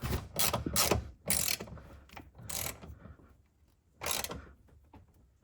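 A hand ratchet tightens a Cusco rear strut bar on an Acura RSX, giving several short bursts of rapid clicking close by, separated by brief quiet gaps, with no speech.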